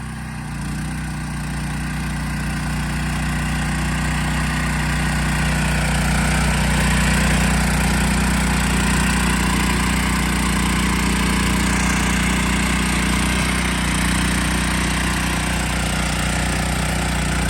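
Honda FU750 tiller with a 6.5-horsepower engine and rotary tines, running steadily nearby with a loud, even drone that holds without pause.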